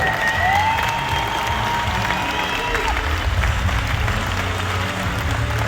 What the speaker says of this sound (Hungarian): hatalmas tapsot érdemelnek